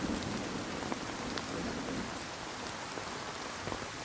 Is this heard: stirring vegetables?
no